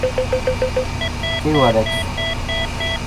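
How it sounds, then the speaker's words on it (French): A helicopter cockpit alarm in Flight Simulator 2004 beeps in a fast, evenly spaced series of electronic tones that keeps repeating, with a voice speaking over it partway through. "elle m'énerve cette alarme"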